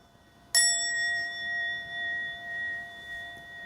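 One struck bell rings out sharply, its bright tone sustaining and slowly decaying for about three seconds over faint room hiss during an online meditation teaching session. No speech.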